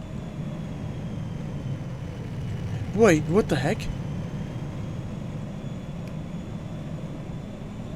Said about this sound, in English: Is the plane just gonna keep hovering over here?